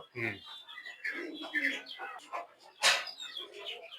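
Pigeons softly cooing and chirping in an old keeper's loft in the Manda area, with faint scattered calls and a brief sharper burst partway through.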